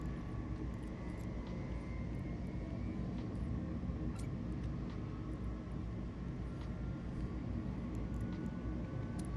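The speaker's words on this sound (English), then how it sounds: "Still does 1400 with an afterburner." A ship's afterburner in EVE Online gives a dense, steady low roar that holds unchanged throughout, moderately quiet, with no voices over it.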